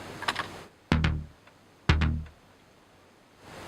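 A Pro 1 synthesizer part from a simple track gives two short, bright plucked notes about a second apart, each with a quick decay, alone over a quiet background.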